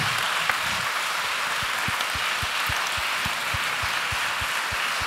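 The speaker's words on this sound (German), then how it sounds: "Applaus für dich!" An audience applauds at a German cultural talk event, a sustained wash of clapping from many hands with steady rhythmic beats underneath, loud and continuous throughout.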